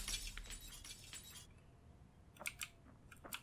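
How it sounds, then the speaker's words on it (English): Broken glass being cleared in the video game Project Zomboid: a quiet burst of tinkling shards, then a pause and a few sharp clicks, faint and without speech. "Just want to clean up some glass."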